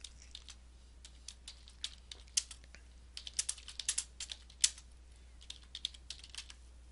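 Quick, uneven keystrokes on a computer keyboard, sparse at first and then bunching into faster bursts, close and fairly quiet with no talking.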